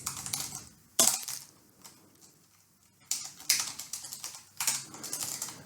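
Quick bursts of typing on a computer keyboard, clicking keys in short runs with brief quiet gaps between them.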